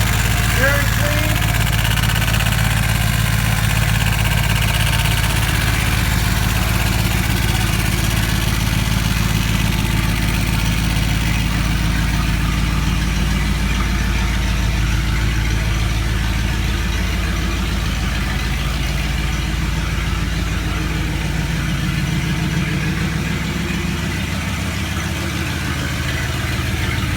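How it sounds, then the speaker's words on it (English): A 1990 Dodge Ram 150 engine idling with its fan clutch rubbing the shroud, a steady close rumbling drone with a faint rattle, while a voice talks over it throughout. "The fan clutch is rubbing against the shroud."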